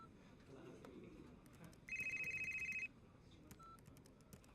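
A telephone rings with a single burst of rapid, pulsing electronic trills lasting about a second. It stands out clearly over a quiet indoor background with faint voices and small noises around it.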